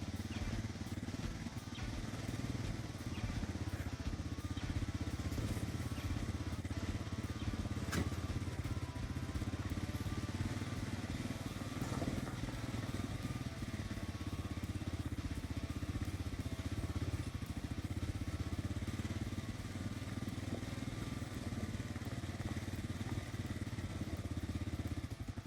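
A 2023 Kawasaki KLR 650 motorcycle heads downhill on a rough trail, its engine a steady, close, low rumble with some clatter and crackle, holding a constant level throughout with no talk over it.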